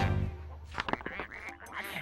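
Farm ducks at a pond quack in a short, close burst of calls, loud and a little busy, with nobody speaking.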